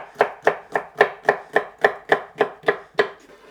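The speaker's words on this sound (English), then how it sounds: "I'm just going to take the seeds out, slice it up," A red pepper being sliced with a knife after its seeds are removed: a steady run of about eleven crisp, evenly spaced cutting strokes, close and clear, with no talking.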